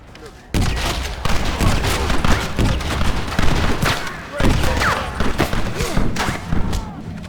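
Loud, rapid gunfire crackles through a Red Dead Redemption firefight at a gate, with overlapping shots and thumps packed together almost continuously after a brief quiet start, shouted voices mixed in.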